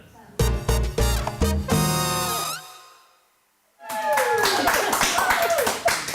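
Studio audience applauding on a daytime food show, two bursts of loud, dense clapping close to the microphone, separated by a short quiet gap, with a brief musical sting in the first burst.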